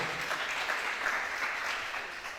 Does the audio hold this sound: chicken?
no